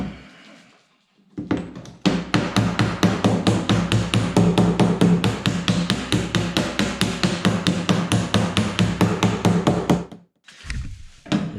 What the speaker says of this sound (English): Need to stretch this metal here by hammer and dolly.